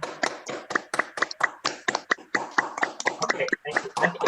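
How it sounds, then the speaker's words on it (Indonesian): An online audience claps along, a rapid run of sharp, fairly close hand claps and taps in an uneven rhythm, with voices talking over parts of it. "Coba ya, kita tepuk tangan."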